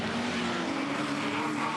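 Touring Car Masters race cars at the 2016 Sydney round, a steady, continuous engine drone from several cars passing on track, loud and even with no breaks or voices.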